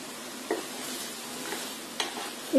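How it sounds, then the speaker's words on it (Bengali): Chicken, carrot and capsicum fry in oil with a soft continuous sizzle, broken by a few sharp scraping stirs of a spatula against the pan; no voices. "চিকেন আর সবজিগুলি একটু তেলের মধ্যে ভেজে নিতে হবে।"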